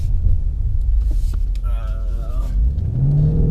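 A BMW M850i xDrive coupe driving through New York City, its engine a deep steady rumble that rises into a climbing rev near the end, with people talking over it.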